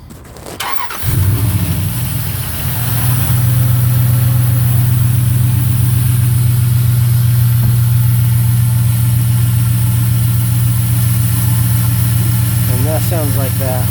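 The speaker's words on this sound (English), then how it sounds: "Let's start up the car real quick." A 2001 Dodge Durango engine, running with its air breather removed and intake disconnected, cranks briefly, catches, then holds a loud, steady, droning idle for the rest of the clip.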